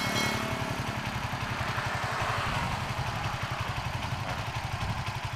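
A Suzuki FU 150 motorcycle, bored up to 68mm 177cc and fitted with a Kawasaki Ninja 250 mono fuel injector, idles low and steady, a close, even chugging pulse that runs throughout.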